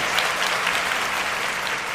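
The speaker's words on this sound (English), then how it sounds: "You giving out rounds of applause today because this is huge." Steady applause from a crowd, dense and even clapping that fills the whole moment without a break.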